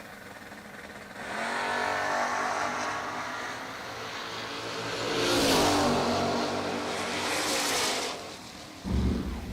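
Drag race cars roar down the strip in a side-by-side pass at a Six Shooter Showdown event, engines swelling loud and fading with a sharp burst near the end, no talk.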